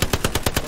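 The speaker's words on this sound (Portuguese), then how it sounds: "O Deus tomei tiro de MG lá do norte." Machine gun fire in the World War II shooter Hell Let Loose, six rapid evenly spaced bursts of a single close automatic weapon, loud and sharp with no talk.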